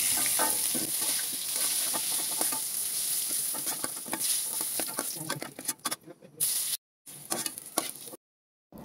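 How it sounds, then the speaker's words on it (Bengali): Jackfruit pieces frying in hot oil, a steady close sizzle with crackles and spatters that breaks off into brief silences near the end. "এইভাবে সবগুলো কাঁঠালের পিস আমি ভেজে নেব"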